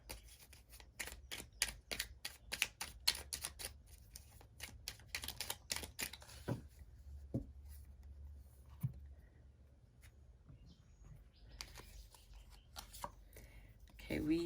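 Tarot cards riffle and flick in a quick, close shuffle for the first several seconds, then slow to sparse taps and slides as cards are drawn and laid down, with faint voice nearby.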